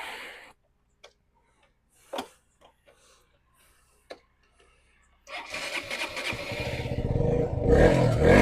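A used motorcycle, one of a Royal Enfield Hunter 350, KTM Duke 125 or KTM RC 125 with about 37,000 km, has a few ticks and clicks, then its engine catches and idles loudly and steadily up close.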